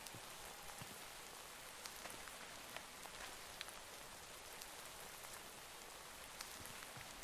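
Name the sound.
heavy rain in the video game Terrafirmacraft (Minecraft)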